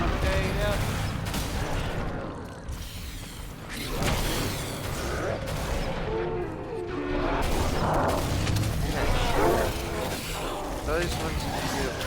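Grenade explosions and gunfire in Halo combat, a busy mix of crashes, metallic clanks and shots under frequent shouting voices, continuous and moderately loud.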